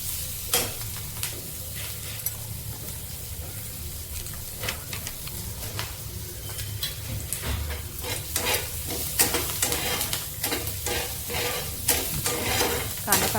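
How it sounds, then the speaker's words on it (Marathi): Onion browning in a pan for gavar sukhi bhaji, a dry cluster-bean dish, gives a steady close sizzle broken by repeated scraping stirs, with no talking. "कांदा चांगला ब्राऊन होईपर्यंत भाजायचा आहे आपल्याला।"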